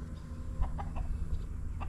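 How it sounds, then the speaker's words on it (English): Chickens cluck nearby in short soft bursts, a few scattered calls over a low steady background hum, no speech. "Chickens."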